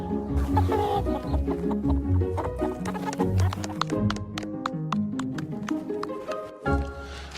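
Chickens cluck in a dense, overlapping chorus of short calls that runs throughout, loud and close.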